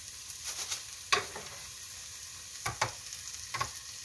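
Garlic, green onions and chili powder frying in sesame oil for soft tofu stew, a quiet steady sizzle broken by a few sharper crackles and stirring scrapes.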